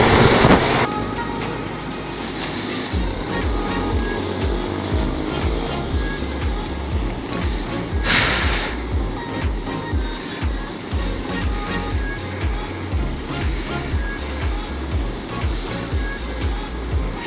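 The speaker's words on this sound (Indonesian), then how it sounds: "kendaraan roda 2 maupun roda 4 yang melintas di jalan raya ini" Motorcycles and cars stream past on a busy road in the late afternoon, a continuous loud wash of engine and tyre noise with repeated rhythmic pulses from passing two-wheelers, heard close from a moving motorcycle.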